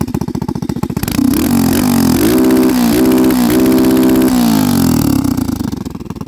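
A Chinese 160cc cross motorcycle engine with an aftermarket exhaust starts up close and loud, then runs with an uneven, rising and falling rev and a rough single-cylinder putter, easing back toward idle.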